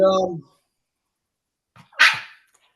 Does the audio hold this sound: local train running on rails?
no